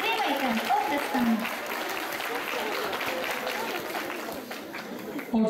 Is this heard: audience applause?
yes